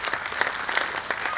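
Applause from the audience at a credit cooperative society's annual general meeting and musical night, a dense patter of many hands clapping steadily at moderate volume, with no speech over it.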